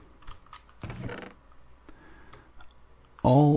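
Computer mouse clicking during a Minecraft game session: scattered sharp, light clicks with a short burst of busier clicking noise, followed at the end by a louder tonal game sound.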